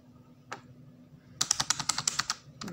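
Rapid burst of keystrokes on a computer keyboard while a list is typed into Microsoft Word, about a dozen crisp clicks in quick succession following a single earlier tap, close and fairly quiet with no talk.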